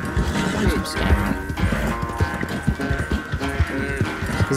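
A white horse whinnies and hooves clip-clop in a steady rhythm, set against busy game-style background sound with some talking, in Red Dead Redemption 2.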